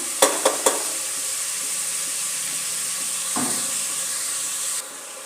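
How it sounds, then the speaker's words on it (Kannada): Onions fry in oil with a constant close sizzle, opened by three quick utensil taps and broken by one dull scrape midway; the sizzle dips quieter near the end. "ಇದು ಎಣ್ಣೆಯಲ್ಲಿ ಚೆನ್ನಾಗಿ ಫ್ರೈ ಆಗಬೇಕು ಈರುಳ್ಳಿ ಸ್ವಲ್ಪ ಬ್ರೌನ್ ಕಲರ್ ಬರಲಿ"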